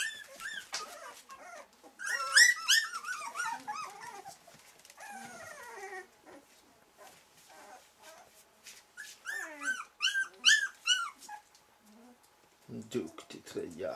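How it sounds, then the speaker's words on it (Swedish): High-pitched whimpers and yips of four-week-old puppies come in clusters, close by, with a few soft voices murmuring between them. "Här är valparna."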